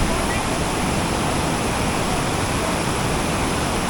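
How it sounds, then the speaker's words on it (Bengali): A cold mountain stream rushes at a water crossing on a high Himalayan trek, a loud, constant broadband roar of tumbling water filling the scene. "এই ঠান্ডা জল এর মধ্যে এইভাবে কিন্তু এই ওয়াটার ক্রসিংটা ক্রস করতে হবে"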